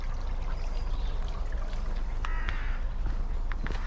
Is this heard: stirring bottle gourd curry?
no